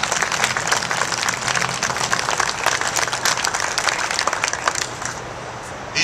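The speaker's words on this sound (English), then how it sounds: "Let's have a round of applause for them." Audience applause for police, sheriff's officers, corrections officers and firefighters at a BROTHERS FOR FLT event, a dense, even burst of many hands clapping that holds steady, then thins slightly near the end.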